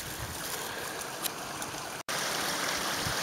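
A wild, remote creek flows with a steady, close rushing and trickling of water, continuous apart from one momentary dropout, with no voices.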